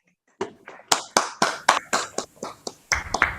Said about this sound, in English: let us all hear the thunderous applause for all these stars